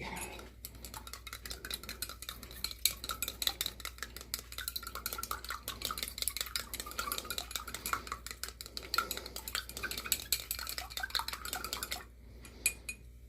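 A utensil stirs water inside a carousel horse Fabergé egg snowglobe, giving rapid clinking and sloshing against the glass that runs busily for about twelve seconds, then drops to a quieter stillness.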